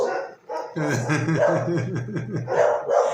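A small female dog barks indoors in an office, a run of repeated sharp barks and yips lasting a few seconds, loud and close.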